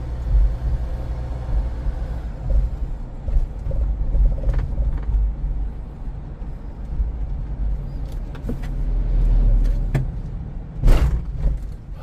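A heavily loaded Hyundai Porter 2 three-axle refrigerated truck rumbles along at low speed, its deep engine drone steady, with a few thumps and rattles as it rolls over a high speed bump.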